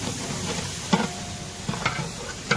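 Green chillies frying in curd with turmeric, a steady close sizzle broken by a few sharp clinks of a spoon stirring against the pan.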